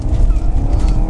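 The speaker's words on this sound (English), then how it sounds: "Listen to them downshifts." A Porsche Panamera GTS engine in manual mode snarls close up, its revs rising and dropping sharply in quick downshifts, loud and throaty throughout.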